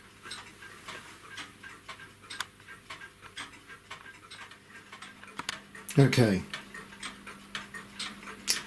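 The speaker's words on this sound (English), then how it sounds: "clocks ticking" Several clocks tick in a clock workshop, a steady soft tick-tock running throughout, with one short spoken word partway through.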